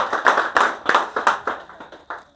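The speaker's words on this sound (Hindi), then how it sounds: "एक बार साहब के लिए जोरदार तालियां।" An audience claps for an honored guest at a tunnel safety training event, with several quick bursts of applause in an uneven rhythm that taper off near the end.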